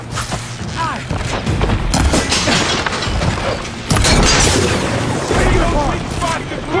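Gunfire and booming impacts in Horizon Forbidden West during a fight against a mounted rider, loud heavy blasts and crashes in quick succession, with shouted voices in the mix.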